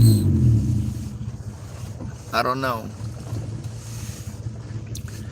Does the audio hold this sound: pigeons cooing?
no